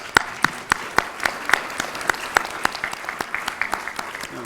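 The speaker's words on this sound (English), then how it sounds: "Would everybody join me in a round of applause for Deborah?" A small audience at a regional congress on talent and education gives scattered applause, distinct separate claps ringing out at an irregular pace rather than a dense roar, fairly close and moderately loud.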